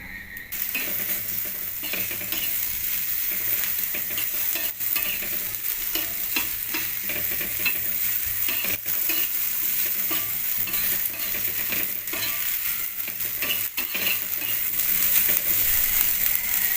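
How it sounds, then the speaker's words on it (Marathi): Onion frying and being stirred in a pan for a dry prawn curry, with steady sizzling and the continuous scrape of a spoon moving through the pan, close and alone without talk. "कांदा भाजून घेते मी, कांदा नरम झाला की टोमॅटो टाकते।"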